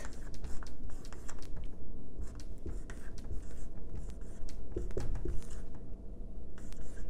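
Pen or marker scratching across a writing surface while a calculus problem is worked out, soft scribbling strokes in short bursts, close and quiet, with no talk.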